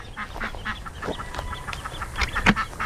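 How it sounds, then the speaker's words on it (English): Baby ducks quack and peep in quick, overlapping bursts close by, a busy chatter of small calls. "Let's look at the baby ducks."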